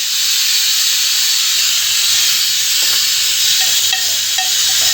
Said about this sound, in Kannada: ವಿಷಲ್ ಆಗ್ತಾಯಿದೆ.